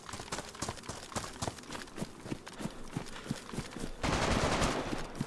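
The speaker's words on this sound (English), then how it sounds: "That sounds like an AK." AK rifle gunfire in the video game DayZ, heard as a faint, distant string of rapid shots with a denser rattling burst near the end; no talking.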